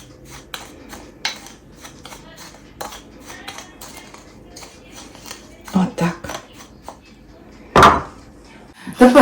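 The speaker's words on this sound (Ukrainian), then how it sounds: "І всі ці сухарі перемішуємо." Utensils tap and scrape against a bowl in an uneven rhythm as dry breadcrumbs for nugget breading are stirred, with a few louder clinks and knocks toward the end.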